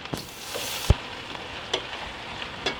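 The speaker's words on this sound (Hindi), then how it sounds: "अब हम इसमें अदरक लहसुन का पेस्ट डाल देंगे और मिला लेंगे।" Ginger garlic paste frying with browned onions in a pan for potato pulao, a soft steady sizzle with a few light scrapes and one sharp knock of a spoon against the pan.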